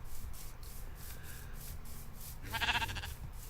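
A single short sheep bleat from the Minecraft video game rises briefly over a quiet scraping, rubbing background near the end, faint and alone without any voices.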